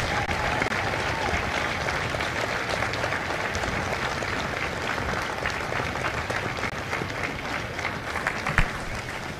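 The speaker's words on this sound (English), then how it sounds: "a round of applause for their dedicated service to Corps and country" An audience at a Marine Corps recruit graduation at MCRD San Diego gives sustained applause, a broad wash of clapping from a large crowd outdoors, with scattered louder claps.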